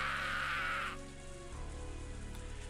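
Rain falls in the video game Higurashi When They Cry, a steady hiss that is loud for the first second and then thins out beneath a sustained tonal music bed.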